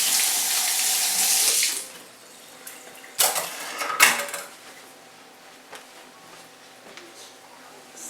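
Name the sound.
tap water running into kitchen sink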